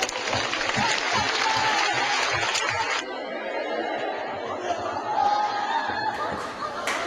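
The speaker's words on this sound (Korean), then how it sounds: "하나님께 영광 박수 주시겠습니다." A church congregation bursts into applause during a sermon, with a dense wash of clapping that fades after a few seconds into chatter and light laughter.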